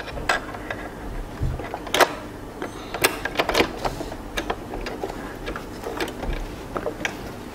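A sewing machine with a flat presser foot stitches over the seam line of drawstring pants, giving a busy run of quick ticking and clattering needle strokes at a steady close level.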